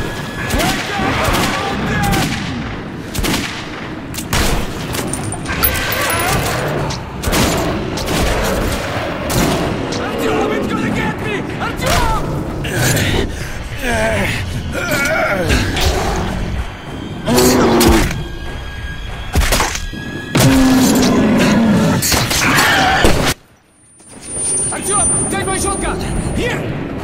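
Gunfire fills a fight in the Metro video game: dense, repeated shots and booms rattle almost continuously for nearly half a minute, with people shouting over them and a brief drop in volume near the end.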